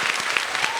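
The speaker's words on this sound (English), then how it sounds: "Let's give a big round of applause to our authors, Maggie and Dolen." A brief burst of applause from an author event audience, dense clapping from a crowd, fairly loud and close.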